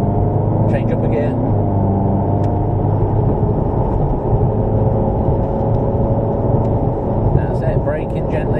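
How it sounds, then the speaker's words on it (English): A Ferrari California accelerates on the road, its engine giving a steady low drone from inside the cabin while a voice talks over it throughout. "Keep on accelerating, a bit more power."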